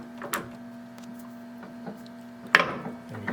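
A lathe turns slowly at 70 RPM during work on a spark plug, giving a steady low motor hum with scattered light clicks and one sharp metallic clank near the end.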